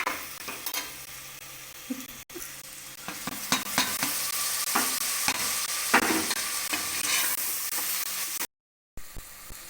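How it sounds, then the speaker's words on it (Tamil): Ginger and garlic sautéing for chicken soup, a steady close sizzle with repeated stirring scrapes and clinks of a spoon in the pan, continuing throughout with a brief dropout near the end. "இஞ்சி பூண்டு நல்லா அந்த வாசனை போகிற அளவுக்கு பச்சை வாசனை போகிற அளவுக்கு வரைக்கும் வதக்கணும்"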